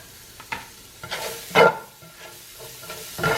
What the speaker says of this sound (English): I'm gonna go ahead and add that onion you chopped up